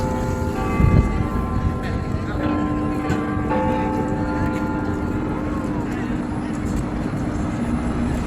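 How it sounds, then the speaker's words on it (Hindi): Big Ben in London strikes five o'clock, deep bell strikes ringing out with long, humming decays over outdoor city noise and people talking nearby. "इस वक्त 5 बजे की घंटी बज रही है बिग बैन पे"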